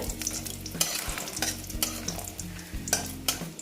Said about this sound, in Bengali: আমার বড়িগুলো প্রায় ভাজা হয়ে গেছে